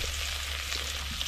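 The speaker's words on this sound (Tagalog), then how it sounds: "Nagisa tayo ng ating luya" Ginger, garlic and onion sizzle steadily in a little hot oil, a close, continuous frying hiss with no pauses and no voices.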